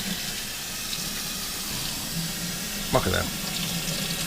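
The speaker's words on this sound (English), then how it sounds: "I'm going to rinse it off a little bit because, frankly, broccoli always looks nasty when you buy it at the store." Cold tap water runs steadily over a head of broccoli being rinsed in a kitchen sink, a soft continuous wash with a brief splashy burst near the end, while someone talks over it.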